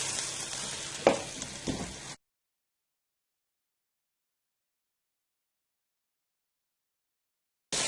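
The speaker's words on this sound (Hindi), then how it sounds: "हमने कीमे को बहुत अच्छे तरीके से भून लिया है" Minced meat (keema) frying in a pan for a matar keema, a soft sizzle with a few stirring scrapes for about two seconds before the sound cuts to silence, briefly returning at the very end.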